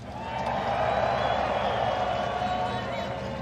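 A large outdoor crowd cheers and roars steadily at the Formula Drift Long Beach 2023 Pro Round 1 Top 16, a dense, continuous wash of voices with a faint whistle riding over it.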